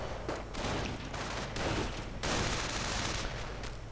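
Dense gunfire in a WWII strategy game, squads trading shots with a machine gun, sustained and loud with overlapping bursts and booms across the whole stretch.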